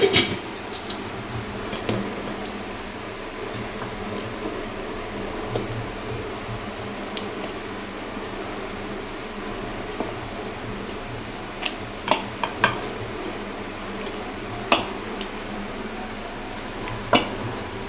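Bobbatlu dough being kneaded and mixed with oil in a bowl, with soft continuous squishing and slapping, close by, and a few sharper clicks and knocks scattered through the later part, with no talk.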